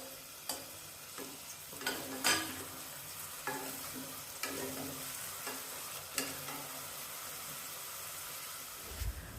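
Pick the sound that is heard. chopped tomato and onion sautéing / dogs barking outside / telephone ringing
chopped tomato and onion sautéing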